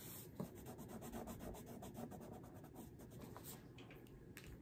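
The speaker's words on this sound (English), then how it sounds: "For, like, the darker green here, I use a regular crayon." A regular crayon rubbed across paper to fill in dark green, a soft continuous scratchy rubbing up close and quiet, with no talking.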